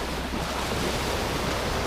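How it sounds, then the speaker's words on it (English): Ocean surf rolls in against Sandgate Beach at night, a loud, continuous wash of waves with gusty wind noise buffeting the microphone and no voices. "All you could hear was the waves crashing against the beach."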